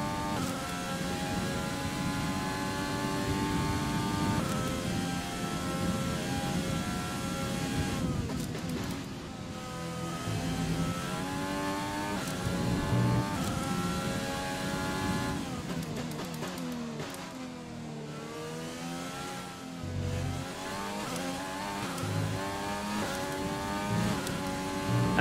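A Formula 1 race car engine in the racing game F1 2020, whining at high pitch as it climbs and drops through the gears, with repeated shifts and a sustained scream, loud and alone.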